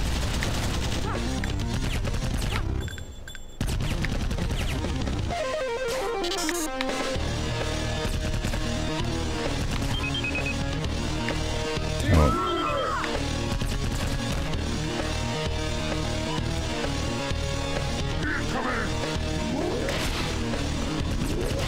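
Repeated weapon fire in the video game Iji, woven into dense, steady game music and effects that fill the whole stretch with no voices.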